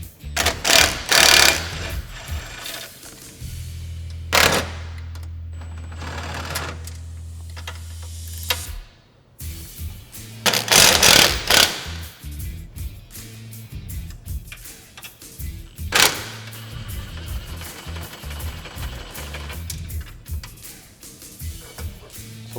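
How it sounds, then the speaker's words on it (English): Bolts being worked out of the front bumper of a Polaris General XP 1000 with a power tool, close and loud, in repeated whirring bursts separated by brief pauses and clanks of metal. "you have to take these 3 bolts out of your front bumper if you have one equipped"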